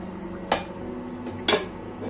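Two sharp metallic clanks about a second apart as a lid is set onto a pot of village-style beef curry, with a quiet low kitchen hum underneath and no talk.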